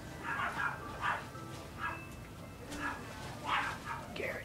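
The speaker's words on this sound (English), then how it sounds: "Oh, if you guys heard that barking, that was just my dogs." Several dogs bark in a loose series of sharp yips and woofs from a little distance, mixed over faint background sound.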